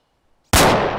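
A sudden, loud grenade blast in ArmA 2 erupts after half a second of near silence, its broad roar decaying slowly through the rest of the moment.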